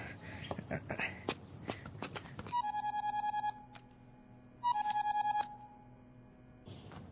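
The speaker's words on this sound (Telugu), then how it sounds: "బ్రదర్ ఫోన్ అందుకో" An electronic phone ringtone plays in two loud bursts of rapid repeating tones, with a pause between them, following footsteps and other busy sounds at the start.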